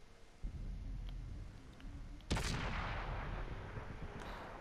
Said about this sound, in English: they are shooting the tanks from outside of the spotting range